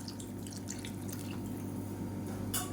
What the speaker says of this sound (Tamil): இப்போ இந்த ஸ்டேஜில் பார்த்திங்கன்னா கொண்டக்கடலை வேக வச்ச தண்ணி இருக்குது அதையும் சேர்த்துக்கலாம்